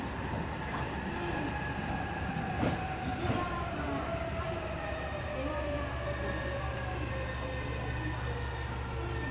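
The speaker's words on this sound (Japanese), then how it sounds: "まもなく3番線に上り列車が" An inbound train pulls into platform 3 at a station, its steady rumble and clattering wheels filling the scene, while a high whine and faint squeal rise above it and a Japanese platform announcement plays.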